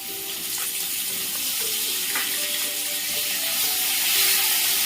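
Curry leaves crackle in hot oil for a curry of amaranth greens and moong dal, a steady broadband sizzle running close and continuous throughout, growing slightly louder near the end with no one talking.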